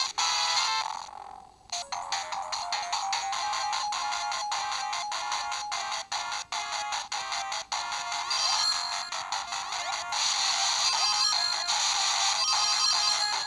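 A Sega Genesis clone console plays game demo music through its slightly off-sounding sound chip, a busy, bright chiptune stream running steadily for several seconds with no voices.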